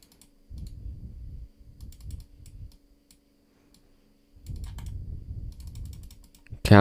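Bursts of rapid computer mouse clicks during a point-and-click horror game, Baby's Nightmare Circus, coming in clustered runs separated by short pauses, close and fairly quiet, ending in a sharper louder click.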